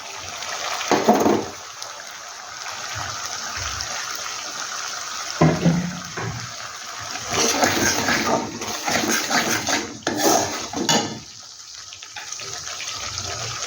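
Water splashed into a bottle gourd muithya mixture in bursts, with several gushing pours separated by quieter pauses and some clatter between them.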